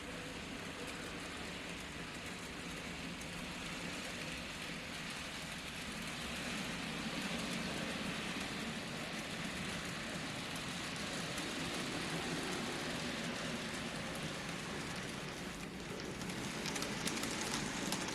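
Farish BR Class 37 model train running on track, a continuous faint whirring rumble and light rattle that hold steady throughout and swell slightly midway.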